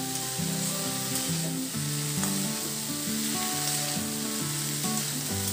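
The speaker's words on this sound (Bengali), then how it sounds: "বাঁধাকপিটা দিয়ে দিলাম, তারপর আমি একটু নাড়াচাড়া করে নিচ্ছি।" Chopped cabbage is stir-fried in a pan with a loud, continuous sizzle and a steady rhythm of stirring scrapes and clinks close by.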